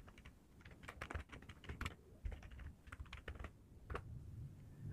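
Fast, uneven typing on a computer keyboard while a Create Database command for DVWA is entered in Termux, with close, dense clicks of varied loudness running through the whole stretch and no talk.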